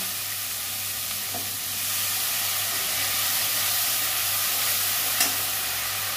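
Water is poured into a hot pan of chili and turmeric spice paste that has been fried down, giving a loud, steady hiss and sizzle that swells slightly and carries on without pause.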